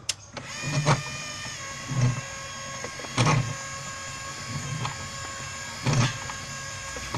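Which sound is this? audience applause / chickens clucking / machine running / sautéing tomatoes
machine running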